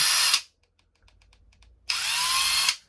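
A Draper Stormforce 20V 1/2-inch drive cordless impact gun whirs loudly in a short burst, goes quiet with faint clicks for over a second, then runs again in a second sustained burst at full power.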